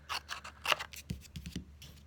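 Scissors snipping through excess vanilla cardstock during a card-making project, a quick series of close, crisp cuts with short pauses, no talking.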